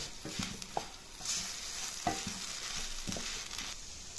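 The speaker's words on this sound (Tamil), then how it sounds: "கூட கொஞ்சம் எண்ணெயை ஊற்றி மொறுமொறுன்னு வர அளவுக்கு வேக வச்சு எடுக்கணும்." Raw plantain slices frying in oil in a pan, stirred as they crisp: close, continuous sizzling crackle with several distinct scraping stir strokes and no voices.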